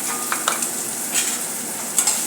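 Finely chopped onion fries lightly in a pan for a veg momo filling, with a soft continuous sizzle and a few faint utensil taps, heard alone.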